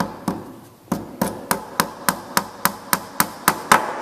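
A hammer drives a small nail into a wooden drawer box in thirteen sharp, evenly spaced strikes, loud and close, with no talking.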